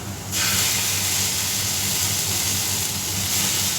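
Ginger garlic paste hitting hot oil with fried onions for prawn masala bursts into a loud, steady sizzle that holds close and continuous without speech.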